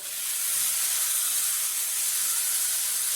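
Onions tossed into rice toasting in a hot pan for Mexican rice set off a loud, continuous hissing sizzle that holds steady and close throughout, with no voices.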